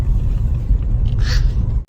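Steady low road rumble inside a moving car caught in traffic in the Philippines, dense and continuous near the floor of the sound, with a brief lighter swish passing midway.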